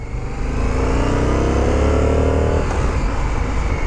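A 2023 Indian FTR R Carbon 1200 motorcycle pulls hard on a test ride, its loud, close engine note climbing steadily through a gear before shifting and settling into a rougher, continuous roar.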